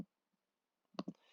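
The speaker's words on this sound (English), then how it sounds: "I'm going to measure AB by clicking on B, then A, and then A, then C." Computer mouse clicks while measuring segments in GeoGebra, a pair of quick, crisp, close clicks after a near-silent pause, with a faint earlier tick.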